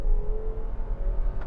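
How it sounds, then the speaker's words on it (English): A 2025 Buick Enclave Sport Touring's engine drones steadily under hard acceleration, a muted, continuous hum heard from inside the cabin. "there is still some amount of noise from that engine,"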